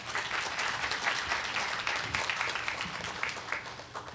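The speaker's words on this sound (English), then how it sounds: "Let's give a round of applause for our presenter." Audience members at a health research conference applaud a presenter, with steady, dense clapping from a sizable crowd that carries on without a break.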